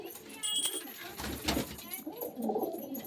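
Pigeons coo softly and repeatedly at close range, their low throaty calls mixed with faint background voices.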